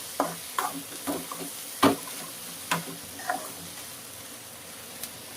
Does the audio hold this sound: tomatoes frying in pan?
yes